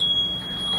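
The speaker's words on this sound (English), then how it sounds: "So it makes a noise when your fly is undone." A steady high electronic beep tone from a trouser zipper alarm gadget sounds continuously for under a second, with no speech.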